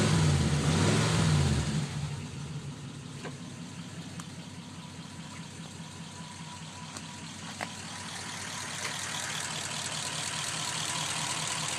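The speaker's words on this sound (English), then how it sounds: "See, the engine sounds" A 1950 Ford engine idles steadily for nearly twelve seconds, a low even rumble with a brief louder burst at the start, running alone with no talk over it.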